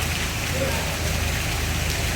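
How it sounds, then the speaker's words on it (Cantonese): Steady rain falls outdoors among residential buildings in Huizhou, a dense, continuous hiss with no breaks. "落雨冇計啊"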